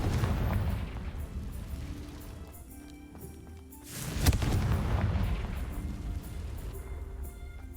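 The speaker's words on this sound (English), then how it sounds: "Confringo." A Confringo blasting spell in Hogwarts Legacy goes off as a deep rumbling explosion, with a sharp burst in the middle that swells and then trails into a lingering roar.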